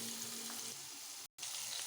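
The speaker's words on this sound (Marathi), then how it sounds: "सगळे टोमॅटो कढईमध्ये टाकून घेतले" Halved tomatoes fry in hot oil in a wok for tomato chutney, giving a steady, close crackling sizzle with a brief gap near the end and no voices.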